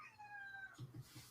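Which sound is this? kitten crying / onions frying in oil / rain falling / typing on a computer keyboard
kitten crying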